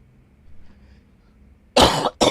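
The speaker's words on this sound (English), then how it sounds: "I got a cough." Two loud, harsh coughs burst out close by after a stretch of near silence, the second shorter than the first, from a man gaming on a live stream.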